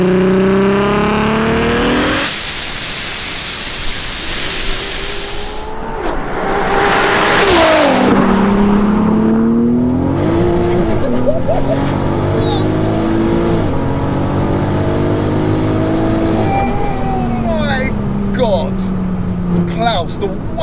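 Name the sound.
1187bhp VW Golf R accelerating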